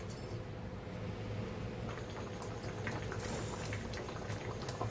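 Large field crabs boiling in a pot, a steady bubbling roil with light clinks and pops, close and constant with no talking.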